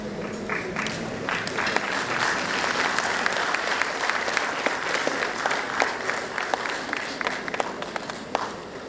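An audience at the R G Kar 2022 convocation applauds in a hall, a sustained dense wash of clapping with sharp individual claps standing out throughout.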